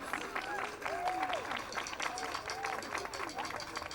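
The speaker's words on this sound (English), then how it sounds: "Please give them a round of applause" An outdoor Christmas carols crowd in Portarlington applauds the community choir, a continuous patter of clapping mixed with murmuring voices and a few rising calls or whoops.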